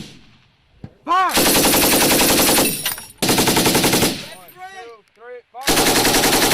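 US Army M240 and M249 machine guns on a range, loud nearby automatic fire in three long sustained bursts with short gaps, punctuated by sharp ringing tones between strings.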